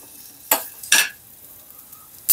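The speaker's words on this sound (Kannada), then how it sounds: "ಇದನ್ನೊಂದು ಟೂ ಮಿನಿಟ್ಸ್ ಚೆನ್ನಾಗಿ ಫ್ರೈ ಮಾಡ್ಕೊಳ್ಳಿ" Ingredients for a sambar fry in a pan, a faint sizzle beneath three loud, close spoon-scraping strokes against the metal, two early and one at the very end.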